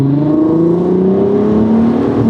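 A VW Golf MK5 R32 engine, loud from outside, revs in a steady, strong drone whose pitch climbs slowly, heard alone without talking.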